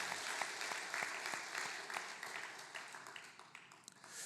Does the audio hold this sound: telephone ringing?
no